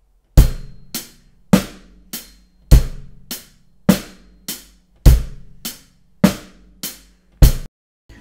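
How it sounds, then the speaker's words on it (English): A drum kit plays a simple groove of evenly spaced sharp hits, about a dozen strokes with decaying cymbal wash and a low kick, close and loud with no talking. "First I'm gonna play a groove, so it's gonna sound like this."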